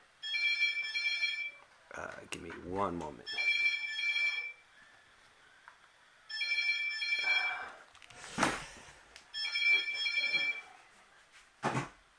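A cell phone rings in four evenly spaced electronic bursts, a bright repeating trill, with a person speaking briefly between rings and some handling knocks.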